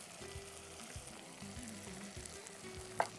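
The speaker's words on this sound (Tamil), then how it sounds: "போட்டு நல்லா வதக்குவோம்." Spices with coriander, chilli and turmeric powder sautéing in a pan, a steady close sizzle and fry with rhythmic scraping stir strokes about twice a second and a small click near the end.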